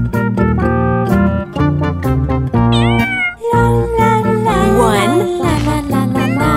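Kittens meowing within a children's nursery-rhyme song, the meows mixed with bright musical tones and sung melody, loud and steady throughout.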